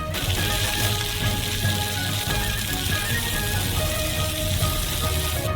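Onions and leeks sizzle in sesame oil in a wok over a lit fire with pork, giving a steady, dense, close frying hiss that runs unbroken throughout with no voices.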